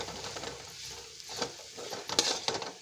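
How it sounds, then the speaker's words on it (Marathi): Chapati crumbs, peanuts and onion being stirred in a pan, with soft scraping and light clinks of a spoon against metal, a faint sizzle underneath, and a few sharper taps near the end. "कांदा त्याच्यामध्ये टाकून घ्यायचं आणि एकजीव हलवून घ्यायचं"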